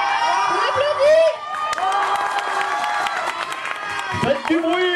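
Outdoor crowd at a Zombie Walk event in Bordeaux cheers and applauds after a prize announcement, with shouts and children's voices over scattered clapping, lively and fairly close.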